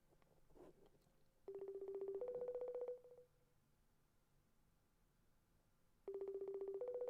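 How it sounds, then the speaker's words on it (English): Telephone keypad dialing tones play in two separate bursts of steady beeps, each lasting a second or two, with quiet room background between them and no talking. "Let's get Rain on the phone."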